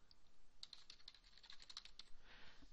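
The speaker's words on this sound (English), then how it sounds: "So for the prompt, type in drawing name." Quiet, quick tapping on a computer keyboard as text is entered into a CAD title block prompt, a short burst of keystrokes close by with no talking.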